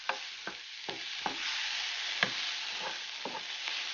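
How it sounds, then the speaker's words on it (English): Mushrooms, onions and peppers seasoned with oregano sauté in a pan over medium heat, a soft steady sizzle broken by about ten sharp scrapes and stirs of a utensil, close and fairly quiet, with no talking. "You continue with the sauteing"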